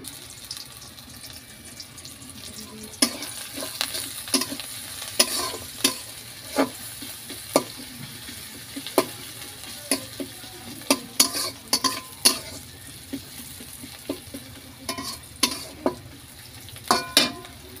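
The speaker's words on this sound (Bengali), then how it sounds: "এখন আমি কড়াইয়ে দিয়ে দেব পেঁয়াজ কুচি।" Chopped onion frying in a wok in which hilsa fish was just fried, a steady low sizzle punctuated by irregular sharp clinks and scrapes of a spatula stirring, close and unaccompanied by talk.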